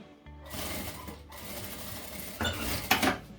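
A sewing machine runs a backstitch on a fabric pouch, a short burst of close whirring and clattering needle action that pauses briefly, then speeds up again.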